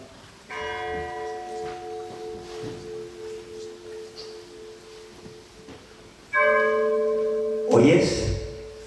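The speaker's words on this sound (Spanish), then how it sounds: "Las campanas doblan." Church bells toll at San Juan del Duero: a steady ringing tone sounds through most of the span, then louder, nearer strokes enter near the end, with a sharp clang at the close.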